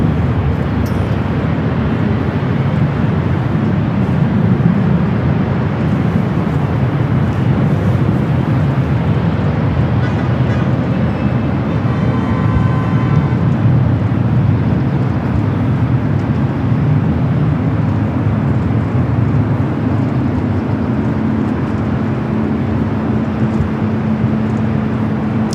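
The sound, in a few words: Boeing 777-300ER airliner at LAX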